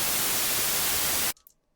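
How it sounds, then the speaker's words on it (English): Steady broadband white noise hiss, loud and dense, holding evenly for over a second before cutting off abruptly into near silence with a faint trailing blip. "So in this example I have some white noise here."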